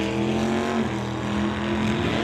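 A Chevelle drag racing car launches down the strip, its engine a loud, sustained roar that shifts in pitch as it pulls away, heard continuously at moderate distance.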